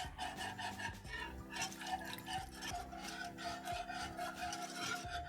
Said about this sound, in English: I'm going to keep whisking so that we make sure we don't have any lumps.